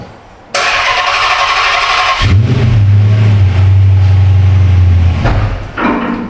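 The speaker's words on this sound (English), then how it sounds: "Let me reach in there and crank it now." An engine cranks briefly, then catches and settles into a loud, steady running drone close by, with a sharp rattle near the end.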